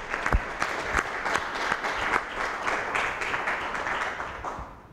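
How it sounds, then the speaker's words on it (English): Audience at a forum in St. John's Norwood church applauds steadily for about five seconds, a dense close-up patter of many hands with a few sharper claps standing out, fading slightly toward the end. "let's give him a hand"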